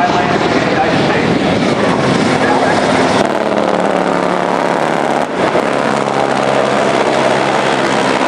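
A Black Hawk helicopter approaches over a channel during a special operations exercise in Tampa, Florida, a loud, steady rotor and engine roar that stays close throughout, with a voice talking faintly under it.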